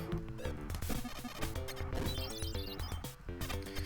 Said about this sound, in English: you start shattering their windows, delivering paper